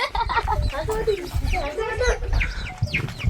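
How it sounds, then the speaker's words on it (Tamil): A chicken on a farm in a Rajasthan desert village clucks in short repeated bursts, close by, mixed in with people talking over it. "கோழி"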